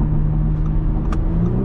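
A tuned Audi B9 S4 with a Unitronic Stage 1+ tune pulls hard under acceleration, giving a loud, steady engine rumble heard from inside the cabin.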